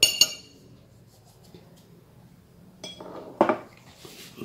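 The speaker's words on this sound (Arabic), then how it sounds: "نخلط هاد النواشف كاملين" Dry ingredients for chebakia, including salt and ground sugar, stirred together in a bowl, with bright clinks of utensil against the bowl at the start and near the end and soft scraping between.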